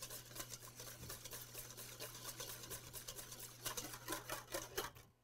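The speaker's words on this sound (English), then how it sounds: "start adding our olive oil to it slowly" A whisk beats olive oil into a salad dressing emulsion, a faint rapid clicking and tapping against a bowl in quick, uneven strokes over a low steady hum.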